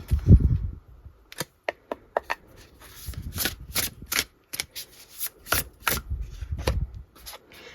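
Tarot cards being shuffled in a quick series of crisp, close flicks and riffles with small soft rubs between them, moderately loud with no talking.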